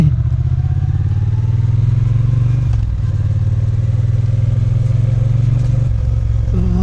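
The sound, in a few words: Triumph Bonneville T120 1200cc motorcycle engine, stock exhaust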